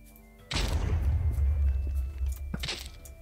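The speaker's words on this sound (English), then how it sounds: "Okay, so it makes giant explosions." Giant explosion from a Bogle parasite in the Minecraft SRParasites mod. A single deep, booming blast hits suddenly, rumbles for about a second and a half, then fades into a quieter thud near the end.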